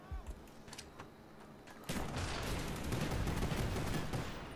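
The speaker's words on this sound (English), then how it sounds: "Got a headshot with the pistol again" Gunfire in Call of Duty Black Ops 1 on PC, a few scattered shots, then a dense burst of rapid firing and explosive cracks that continues loudly to the end.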